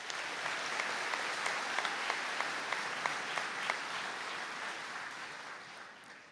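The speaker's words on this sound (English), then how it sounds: "Round of applause for Adele," A steady round of applause fills a hall at a college conferring ceremony for a graduate receiving a certificate, an even wash of many hands clapping that tapers off toward the end, fairly distant.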